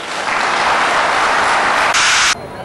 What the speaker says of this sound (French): Je vous demande d'applaudir ça.